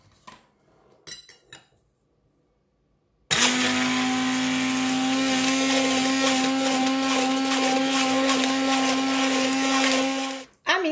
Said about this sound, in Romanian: Iar acum, cu ajutorul unui mixer,